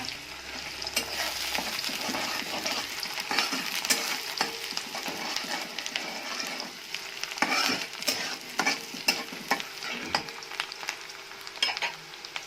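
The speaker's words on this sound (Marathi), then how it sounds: "दोन चमचे तेल आपण टाकले आहे। व्यवस्थित कांदा परतून घ्यायचा।" Chopped onion sautéing in about two spoons of oil in a pan, a steady close sizzle with repeated scraping and stirring strokes throughout, no voices.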